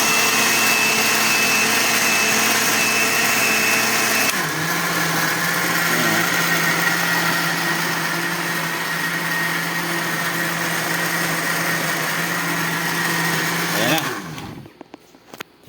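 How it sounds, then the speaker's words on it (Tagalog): An electric blender crushing leftover fruit whirs loudly and steadily for most of the clip, its pitch shifting slightly, then winds down and stops near the end. "Ito lang yung gamit kong blender."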